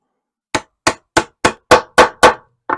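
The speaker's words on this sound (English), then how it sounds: "Hammer it till it's all the way in, nice and tight." Seven sharp hammer blows drive a glued oak piece into place in a steady rhythm, close and loud, followed by a couple of lighter taps.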